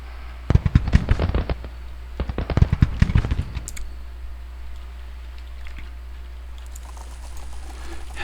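Artillery fire in a Civil War strategy game: rapid crackling bursts of cannon and gunfire in two clusters over a low hum, then fading to quiet with scattered faint pops.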